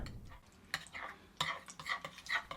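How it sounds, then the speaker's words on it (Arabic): A spoon stirring and mashing yogurt in a bowl, producing a quiet, close series of soft irregular scrapes and taps with no voices. "رح أحرك اللبن الزبادي بهالشكل"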